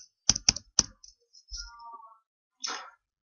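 Keys on a computer keyboard are tapped in a quick burst of three or four close clicks, followed by a soft shuffle and one more short keystroke in a quiet room.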